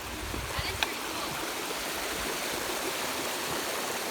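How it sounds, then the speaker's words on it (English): A small waterfall on a snowy Cougar Mountain trail gives a steady, soft rush of falling water, heard from a short distance with a brief faint knock partway through. "There's the backside of a waterfall, or the top side of a waterfall."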